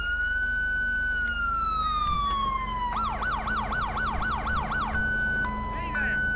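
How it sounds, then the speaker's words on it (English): Electronic police siren from the video game GTA 5 blaring close by, a long falling wail that switches to a fast rapid yelp, then a two-tone pattern, over a low engine hum. "You have to have your sirens on for that?"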